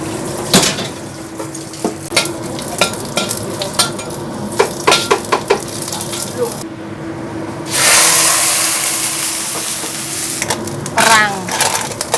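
Water spinach and anchovies are stir-fried in a pan with loud sizzling and frequent clanks and scrapes of a utensil against the metal, and the frying swells in a burst of hissing partway through.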